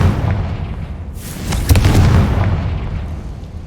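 A magical Confringo fire spell blasts in the game Hogwarts Legacy, giving a loud booming burst with crackling debris that swells midway and fades out, right after a character shouts the incantation.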